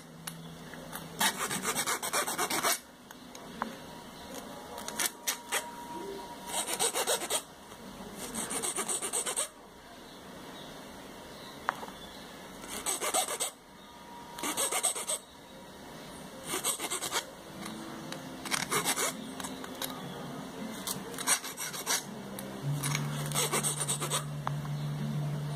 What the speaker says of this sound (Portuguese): Lixa aqui o biquinho e vai circulando a pétala.